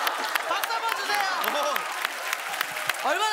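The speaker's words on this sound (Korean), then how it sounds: "박수 한번 주세요." Studio audience applause at a Korean stage comedy show, steady crowd clapping for the whole stretch with voices and laughter rising over it.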